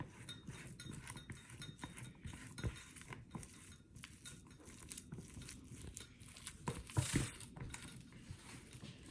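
Ripe bananas being mashed with a fork in a bowl for banana bread: a soft, faint, continuous squish and scrape with occasional light clinks of metal on the bowl, and no talking.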